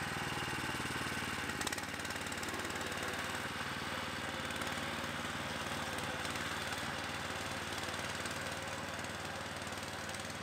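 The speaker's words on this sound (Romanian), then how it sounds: "pornirea este lentă, cu motorul puțin accelerat" ProGARDEN 4x4 18 hp tractor engine labours steadily while pulling a loaded trailer uphill on a packed-earth track, a constant loud chugging drone with a brief clunk near the start.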